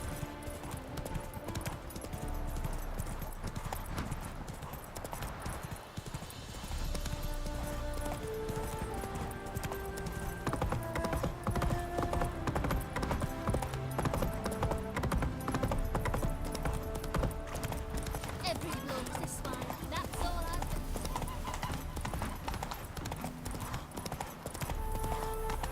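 Galloping hooves of Roach, the horse in The Witcher video game, pound in a steady rapid clip-clop throughout, close and loud over a continuous musical score, with a brief whinny possible.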